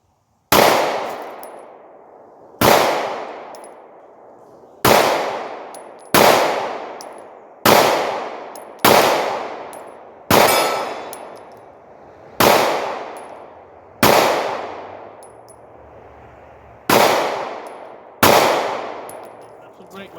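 Eleven loud, sharp shots from a Smith & Wesson M&P Shield 9 pistol fired outdoors at a 30-yard target, spaced about two seconds apart with ringing decay after each.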